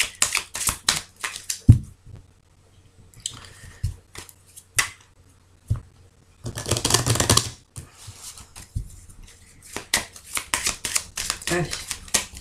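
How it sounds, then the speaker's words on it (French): A tarot deck being shuffled during a weekend card reading, with sharp clicking snaps and a longer riffling burst partway through, close and fairly quiet, mixed with moments of speech. "je vais bien mélanger le jeu"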